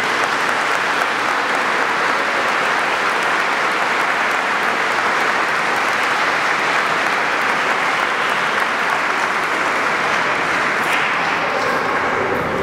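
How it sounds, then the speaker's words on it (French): Sustained applause fills a church, welcoming the nuns of a deanery as a large congregation claps steadily and loudly without pause, with no voices heard over it. "on les applaudit."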